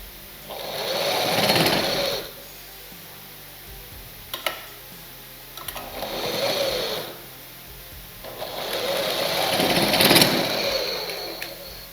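A sewing machine stitching two layers of blouse lining fabric runs in three bursts of rapid mechanical whirring and ticking, loud and close, with short pauses between runs.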